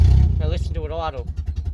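A Leyland Series III engine idles with a low, pulsing putter, heard under someone talking close by.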